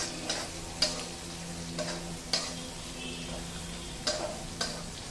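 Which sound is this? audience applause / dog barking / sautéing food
sautéing food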